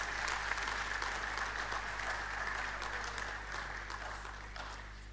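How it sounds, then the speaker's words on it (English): An audience at a university convocation lecture applauds the lecturer and chairman, a dense, sustained round of clapping that holds steady and then gently tapers, heard from a distance in a large hall. "Please let's give him another round of applause."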